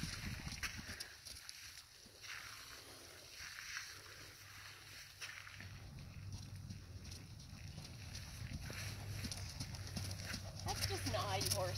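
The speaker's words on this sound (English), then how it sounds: "That's just naughty horses." Horses walking over marshy, soft ground give off a steady clip-clop of hooves throughout, mid-distance under outdoor ambience.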